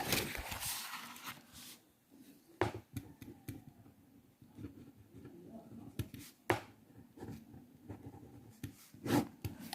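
Marker or chalk strokes tap and scrape across a board during a maths lesson, coming in short, irregular bursts, close and fairly quiet, with pauses between them.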